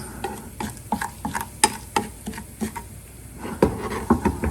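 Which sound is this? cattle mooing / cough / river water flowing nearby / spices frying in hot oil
spices frying in hot oil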